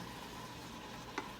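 Blueberries cook down in a hot pan on medium-high heat for oat pancakes, giving a faint, steady sizzle with a brief slightly louder crackle near the end.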